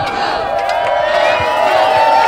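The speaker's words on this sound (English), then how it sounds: "you guys got to give yourselves some applause" Large political rally crowd in San Antonio, Texas cheering and whooping loudly and continuously, a dense roar of many voices with shouts rising through it, close and sustained throughout.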